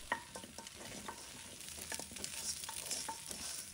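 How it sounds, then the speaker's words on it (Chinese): Spices are stir-fried in a pan for cola-braised pork trotters, giving a quiet, steady sizzle broken by intermittent scraping and stirring strokes, with no voices. "再把香料加进来，继续炒出香料的香味"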